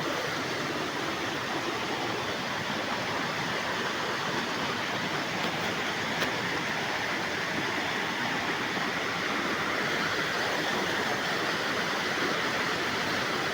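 Clear water rushing steadily over a rocky stream bed near a waterfall in Phetchabun, a constant dense wash with no pauses and no voices.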